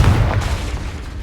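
A Confringo explosive spell blast in Hogwarts Legacy, one loud, close booming burst with a deep low thump that decays quickly.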